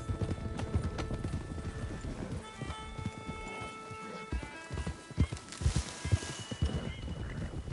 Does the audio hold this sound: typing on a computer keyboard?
no